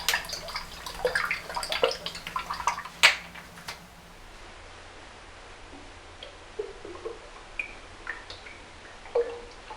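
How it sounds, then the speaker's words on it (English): Aylsworth Noir aftershave splash being poured and patted onto the face after a shave, a burst of wet splashing and dripping in the first few seconds, then quieter faint drips and taps alone. "finish off the entire shave with Aylsworth Noir Aftershave Splash"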